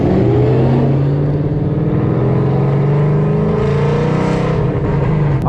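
A Shelby sports car close by, its engine droning and rising in pitch as it revs and rolls along, loud and continuous with a whoosh toward the end.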